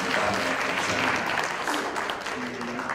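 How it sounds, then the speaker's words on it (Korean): An audience at a founding assembly gives a steady round of applause, a dense wash of clapping that holds for a few seconds, with a faint voice underneath. "다시 한번 좀 박수 보내주시고요"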